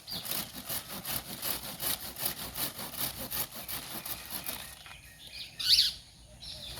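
A handsaw cuts through a soursop tree branch during pruning with steady back-and-forth rasping strokes for several seconds. The sawing stops, then a bird chirps briefly nearby.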